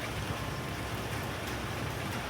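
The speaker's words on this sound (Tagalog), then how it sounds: "So, ngayon lang may ulan." Typhoon rain pours steadily in Taiwan, a dense, even hiss of falling water with a low rumble beneath it, continuous and fairly loud, with no voices or distinct events.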